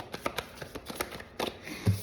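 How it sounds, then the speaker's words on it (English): A deck of tarot cards is shuffled by hand close up, a rapid series of crisp papery riffles and taps ending in a soft thump. "I'm gonna shuffle 2 more times and then we'll clarify this card"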